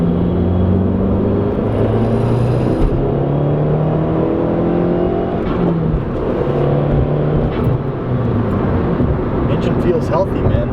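A car engine fitted with a water methanol injection kit hums and drones at light throttle, a steady close rumble with shifting tones as it pulls, heard from inside the vehicle.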